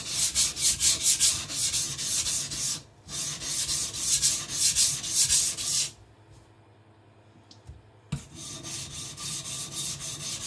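A Tojiro white steel shirogami nakiri is thinned on a whetstone, with steady rhythmic rubbing strokes, close and loud, pausing briefly twice before the grinding resumes.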